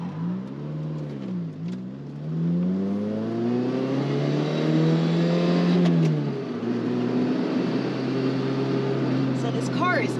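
Inside the cabin of a Lotus Elise driving with the targa roof off, the engine drones loudly and rises and falls through the gears amid road and wind noise, while a voice talks over it.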